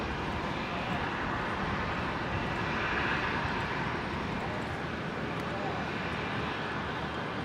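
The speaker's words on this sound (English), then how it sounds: "Next arrival here, Qantas 528 coming in from Sydney, the 737-800 onto 19 left." Qantas Boeing 737-800 arriving from Sydney onto runway 19 left at Brisbane airport, a steady, distant broadband engine roar holding at a constant level throughout.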